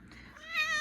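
A short, close domestic cat meow that rises and brightens toward its end, heard alone in a home.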